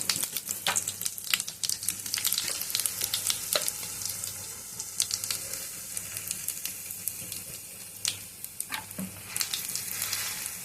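A peanut and garlic paste hits a hot pan on a lowered gas flame and sizzles steadily, with frequent sharp crackles and scraping stirs throughout.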